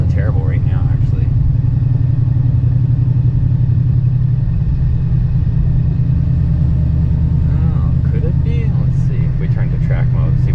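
Steady, heavy low-pitched engine drone from a Dodge Challenger SRT Hellcat with built heads and cam while cruising, heard from inside and continuous throughout, with a voice briefly coming through over it.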